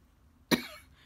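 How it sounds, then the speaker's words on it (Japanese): A single sharp cough bursts out once during a quiet painting lesson on skunk cabbages, close and fairly loud, then trails off into near silence. "咳が出ちゃって"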